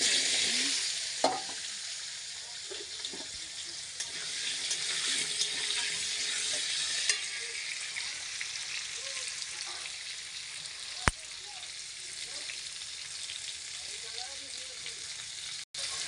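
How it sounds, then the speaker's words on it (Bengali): Potatoes fry in hot oil in a pan for a Bengali shrimp, potato and pointed gourd dish, giving a steady, close sizzle throughout with a few faint stirring knocks and a sharp clack. "আলুগুলো লাল করে ভেজে উঠাবো"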